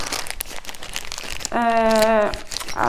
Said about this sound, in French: C'est toujours compliqué de sortir les barquettes du toolkit chez Oraloa parce que le sachet est un peu trop serré.